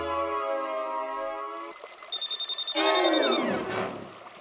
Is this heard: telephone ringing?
yes